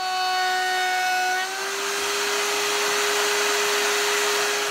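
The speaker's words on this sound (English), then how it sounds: "I'm going to run a rounding over bit along the edge" A router table spinning a roundover bit along the edge of a small workpiece, a loud steady high whine that drops slightly in pitch as the cut loads the bit.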